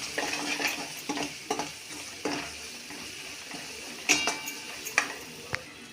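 Spices being stirred into a sizzling frying-pan mixture, with a steady fry hiss and repeated scrapes and clinks of a spoon against the pan, a sharper metal knock near the end.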